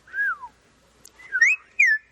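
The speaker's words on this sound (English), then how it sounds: "I want to see if he whistles." A person whistles a few short notes, a falling tone, then a pause, then two rising chirpy phrases, close and clear against near silence.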